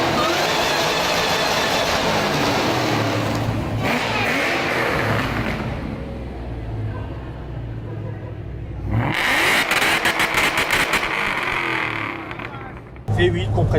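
A supercharged V8 in a 1965 Ford Mustang fastback revs and roars with a rough, throaty exhaust, rising and falling in loud bursts while someone talks over it.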